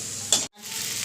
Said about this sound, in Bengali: ব্যাস, এবার এই মশলাটা ভালো করে কষিয়ে নিই।